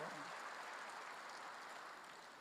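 Congregation applauding together in a Korean church service, a steady faint wash of clapping that holds for a couple of seconds and slowly fades.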